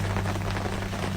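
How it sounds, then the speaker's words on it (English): Rain starting to fall makes a dense, even patter of drops that continues without a break through a very short stretch, with no voices. "it just started raining"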